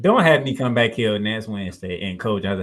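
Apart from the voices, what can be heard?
No everyday noise stands out behind the speech.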